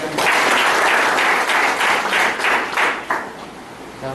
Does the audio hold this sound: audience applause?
yes